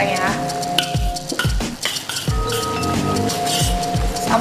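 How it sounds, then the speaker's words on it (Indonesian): Pieces of fried chicken stirred with a utensil in a pan of foaming salted egg sauce, giving repeated clinks and scrapes of metal on the pan over a steady sizzle, close and fairly loud, with no talking. "Sampai wangi ya, kita aduk."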